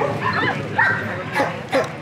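A solid black German Shepherd at a dog event, giving several short yips and whimpering barks at close range while people talk nearby.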